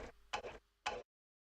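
Click element of the Doom chaingun startup sound from the video game: a few quick, sharp mechanical ticks in a short cluster, dry and close, then silence.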